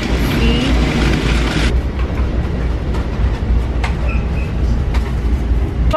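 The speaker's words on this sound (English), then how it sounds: "Our train has gotten in." Train pulling into Farmingdale station, a loud rumbling roll with rhythmic clatter of wheels and occasional metallic squeals and clanks, continuous throughout.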